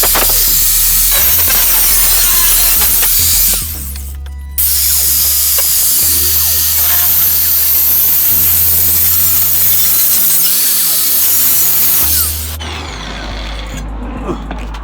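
A power tool cuts a small metal bracket adapter plate from sheet metal for a 56mm motorized bicycle build. It makes a loud, steady, harsh grinding whine that briefly stops and then resumes.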